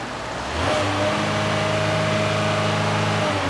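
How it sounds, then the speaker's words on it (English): A car engine with a cam phaser fault, P0011, rises from idle into a sustained rev as the throttle opens, holding a steady loud drone close by. "Let me give it the gas, see what happens."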